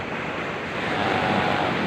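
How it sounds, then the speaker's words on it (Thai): Sea waves washing onto a beach on Thailand's southern coast, a steady broadband surf roar with wind noise across the microphone, continuous and fairly loud throughout with no voices. "นี่คือชายทะเล"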